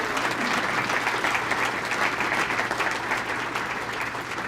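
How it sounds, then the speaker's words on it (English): A luncheon audience at a Rotary Clubs Veterans Day event gives the club leaders a big round of applause, a thick, continuous clapping that holds steady from start to finish. "Please give them a big round of applause."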